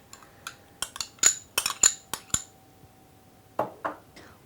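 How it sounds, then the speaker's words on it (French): Choux pastry being stirred together with thick cream in a bowl for a Franche-Comté galette des rois, heard as a run of sharp utensil clinks and scrapes against the bowl, then a few softer strokes after a short pause. "On mélange bien."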